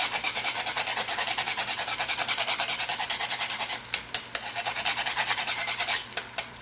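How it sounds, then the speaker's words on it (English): Himalayan salt is grated over a pasta dish, a close, rhythmic rasping of quick even strokes that runs nearly without pause, with a short break near the end. "where's my grater? We're going to add our Himalayan salt."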